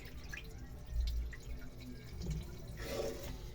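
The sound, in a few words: washing sticky rice with water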